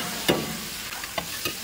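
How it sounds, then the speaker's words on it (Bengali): Tomato fries in a pan with potato and soybean, giving a steady close sizzle with a few light scrapes and stirs of a spoon against the pan. "টমেটোটা দিয়ে দিলাম, টমেটো দিয়ে একটু মেরে নেবো"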